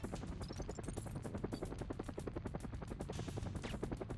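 A helicopter in the video game Syphon Filter 2 flies away, its rotor chopping in a fast steady pulse, with a few faint high beeps early on.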